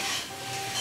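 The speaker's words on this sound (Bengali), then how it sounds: "পেঁয়াজটা ভেজে নিয়ে এর মধ্যে আমি দিয়ে দিচ্ছি টমেটো কুচি আর চেরা কাঁচা লঙ্কা" Chopped tomato and slit green chillies hit frying onions in a pan, a soft steady sizzle with faint stirring scrapes for under a second.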